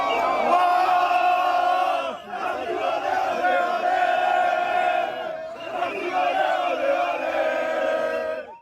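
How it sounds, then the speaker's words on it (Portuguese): Brazil national team supporters in stadium stands cheer and chant in a loud, sustained roar, the massed voices holding steady with a brief dip near the middle and another later, no single speaker standing out. "E quem fez a festa e barulho aqui nas arquibancadas foi a torcida verde e amarela."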